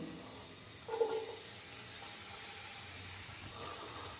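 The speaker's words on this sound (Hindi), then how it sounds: "प्याज को हम हल्का सा फ्राई करेंगे 2 से 3 मिनट के लिए" Finely chopped onion dropped into hot oil in a pan for an egg and tomato bhurji, a brief louder splash of sizzle followed by a steady, quiet frying hiss.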